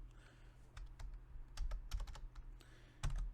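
Typing on a computer keyboard while entering a command and hash in a terminal, with irregular sharp key clicks in short clusters, quiet and close, and no talking.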